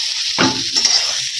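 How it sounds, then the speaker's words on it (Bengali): Eggplant slices fry in hot oil in a kadai, a steady close sizzle that swells into a louder hissing burst as the pieces are stirred, then settles back. "বেগুনগুলো লাল লাল করে ভাজা হয়ে গেছে।"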